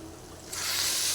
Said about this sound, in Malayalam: നമ്മൾ വറുത്ത് വെച്ചിരിക്കുന്ന മീന ചട്നി നമുക്കിതിലേക്ക് വിനാഗിരി ഒഴിച്ചു കൊടുക്കാം.